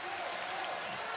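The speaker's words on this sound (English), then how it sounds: "So the crowd trying to urge this Hawaii team on" Crowd noise from spectators at an NCAA men's volleyball match between Loyola Chicago and Hawaii, a steady broad roar of cheering and clapping that holds evenly through a very short stretch with no pauses.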